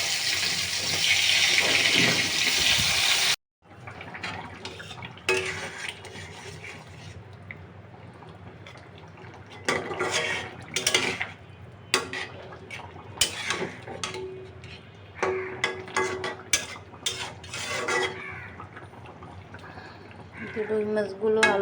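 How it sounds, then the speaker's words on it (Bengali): Potato pieces fry in hot oil left over from frying rui fish, a loud, dense sizzle for about three seconds before it cuts off. Scattered clinks and kitchen clatter follow. "এবার আমি ওই তেলের ভিতরে আলুগুলো ভেজে নেব।"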